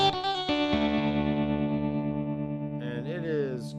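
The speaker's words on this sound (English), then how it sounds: "Let's do a tube tremolo on this." Electric guitar through a Headrush modeler with a tube tremolo effect placed after the amplifier, sustained distorted chords ringing out loud with shimmering pulsing modulation and a brief higher-pitched note flourish near the end.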